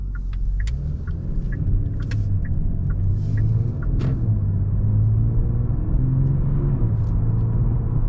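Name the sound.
2022 Genesis G70 3.3T AWD car driving off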